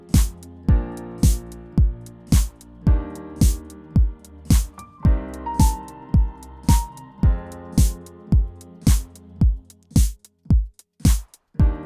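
Sustained piano-like chords ring under a steady drum groove with kick and snare hits at an even tempo, loud and close, with a brief melodic tone sliding in midway before the pattern thins out at the end.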